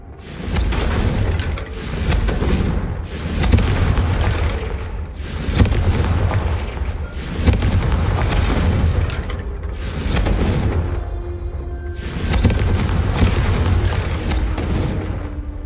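Repeated loud fire-spell blasts from Hogwarts Legacy, a Confringo cast exploding again and again, each booming burst with a rumbling tail and a crackle, about seven in quick succession with no talk.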